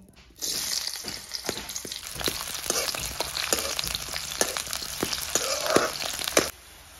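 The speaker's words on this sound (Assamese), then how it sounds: "তেল গৰম হৈছে গতিকে ইয়াতে এতিয়া দিম পিঁয়াজ জলকীয়া আৰু নহৰু" Chopped onion, chili and garlic hit hot oil with a sudden loud sizzle, crackling pops and stirring scrapes, then the frying noise cuts off.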